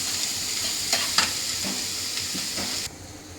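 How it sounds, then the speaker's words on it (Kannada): Onion fries in a pan for paneer butter masala, a continuous close sizzle broken by a few crisp stirring scrapes before it suddenly drops away near the end, with no talk. "ಸ್ವಲ್ಪ ಈರುಳ್ಳಿ, ಇದೊಂದು ಸ್ವಲ್ಪ ಫ್ರೈ ಆಗಲಿ"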